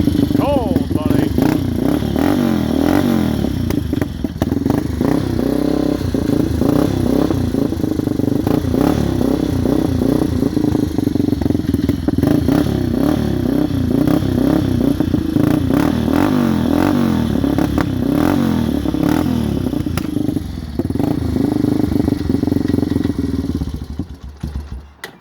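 A Yamaha Warrior 350 ATV engine runs after a cold start, a loud, steady, close idle with uneven lumpy pulses and occasional clatter, continuing for about 24 seconds before cutting off near the end.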